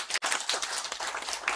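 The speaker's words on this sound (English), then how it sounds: "Can we welcome him with a clap?" A workshop audience gives a short burst of dense, fairly close applause that continues steadily for a moment with no speech.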